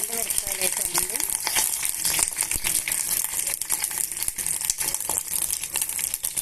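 Green chillies, five or six, frying in well-heated oil in a home kitchen: a steady, bright sizzle and crackle throughout, with faint stirring and crinkling, loud and close.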